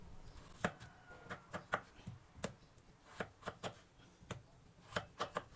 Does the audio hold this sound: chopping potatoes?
yes